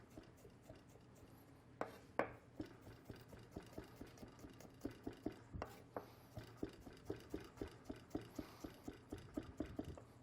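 A knife chops vegetables into little strips on a cutting board, a steady series of soft, close taps in a quiet kitchen.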